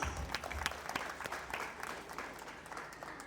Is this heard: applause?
yes